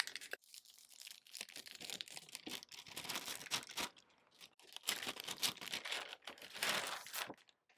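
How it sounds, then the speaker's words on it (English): Transfer tape peeled slowly back from rhinestones on a shirt, giving faint, close crinkling and tearing rustles in uneven bursts with short gaps. "Then I'm going to try to peel this back slowly"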